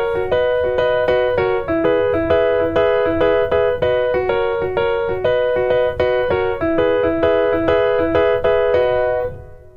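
Piano playing the pre-chorus of a song, a bright, steady run of repeated chords and melody notes played continuously, close and clear with no voices, fading at the end.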